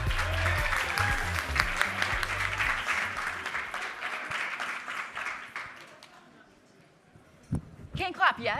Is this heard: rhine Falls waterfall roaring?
no